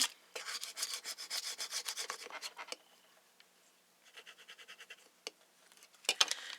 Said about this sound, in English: So I'm going to go ahead and burnish this down.